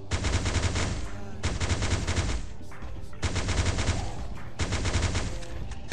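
Automatic weapon fire against zombies in a video game, two long bursts of rapid machine-gun shots, loud and close, separated by a short gap with lighter scattered shots.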